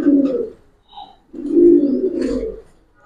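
Giribaz pigeons coo in a loft, two soft, low rolling coos separated by a brief pause, close and clear against a quiet background.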